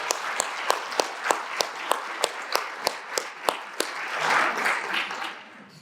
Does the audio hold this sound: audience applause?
yes